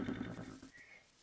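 Horse whinnying in a video game, a brief nasal neigh that fades out quickly into quiet background.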